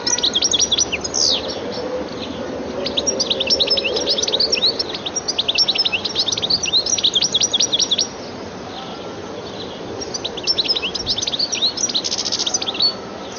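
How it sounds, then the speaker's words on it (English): A goldfinch delivers rapid, twittering calls and song in lively clustered bursts with brief pauses, close and clear over a constant background hiss, with no voices. "The goldfinch's looks, as well as its attractive calls and more elaborate song, make it a welcome visitor to gardens."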